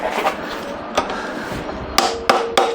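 Hammer blows with a larger hammer driving a flat-blade screwdriver while working on a 1973 Harley Sportster front end: a few sharp metallic strikes, one alone and then three in quicker succession, close and loud over faint room noise.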